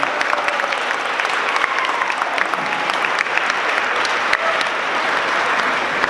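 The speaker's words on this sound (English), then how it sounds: "Give them a round of applause." Sustained applause from a conference audience honoring a social justice class at an opening ceremony, steady dense clapping at even loudness for about six seconds with no one speaking over it.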